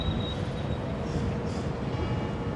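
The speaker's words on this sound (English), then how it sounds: "this is part of the Cadiz train station." Train station ambience at the Cadiz train station: a steady, dense rumble of rail noise with a constant low roar throughout and no voices, fairly loud and even.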